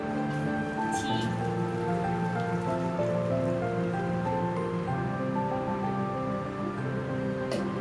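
Simmered tea for kombucha being strained, a steady, even patter of liquid falling through a strainer that runs without a break under soft background music.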